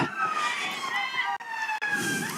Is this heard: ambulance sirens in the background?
yes